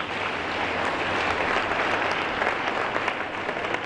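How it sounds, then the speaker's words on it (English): An audience at a peace-promotion event applauds a speaker returning to the podium, a steady, dense wash of clapping that holds for several seconds. "Please let's give him an applause."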